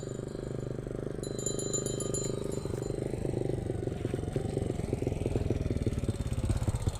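A motorcycle engine idles nearby on a street where ice cream is sold, a loud, steady, throbbing putter that grows rougher and revs slightly toward the end.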